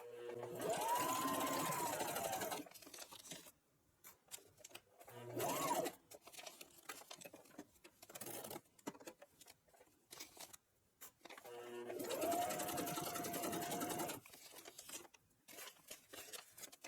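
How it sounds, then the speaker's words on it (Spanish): Sewing machine stitching a hand-knitted men's vest with a zipper, running in long steady buzzing bursts separated by pauses, close and clear, with no voices. "ha sido muy fácil coser"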